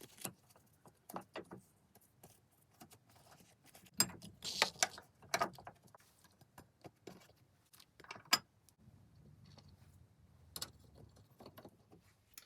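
Parts being screwed together during an interior restoration of a Mini: faint, sparse metallic clicks, ratcheting and small rattles with a few louder clinks and quiet handling noise between them, close by, with no talk.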